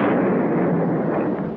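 A bomb goes off in a Mario video game as a single sustained, loud, broadband roar that fills the whole moment and stays dense throughout before easing slightly at the end.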